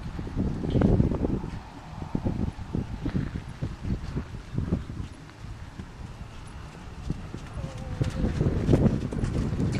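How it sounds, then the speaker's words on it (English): Hooves of a horse trotting under a rider clip-clop in a steady, continuous rhythm, with wind noise and some rustling mixed in, moderately close. "You try to get a little bit more trot out of him."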